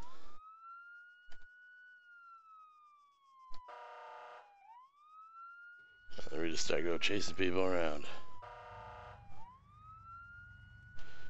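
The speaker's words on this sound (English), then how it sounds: "here's the horn with sirens" A police car siren in ARMA 3 wails, sweeping slowly up and down, interrupted by short horn-like bursts, while someone talks over part of it.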